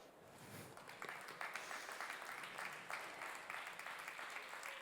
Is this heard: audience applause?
yes